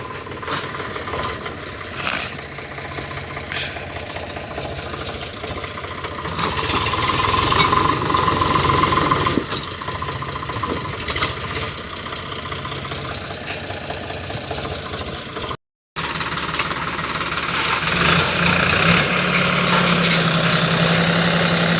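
A tractor engine labours nearby while pushing soil into a pit, a loud, continuous knocking rumble that swells and eases, with a brief dropout and then a steadier drone.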